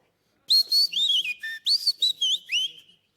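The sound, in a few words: man whistling imitation of a tit's song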